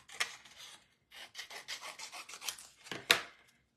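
Paper is trimmed for a craft kit in short scraping and rubbing bursts, a sharper cut near the end, close and faint.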